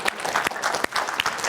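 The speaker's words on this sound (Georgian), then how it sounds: "აპლოდისმენტები" A studio audience at a televised book quiz show bursts into brisk applause, sharp irregular claps from a moderate crowd filling the short moment without speech.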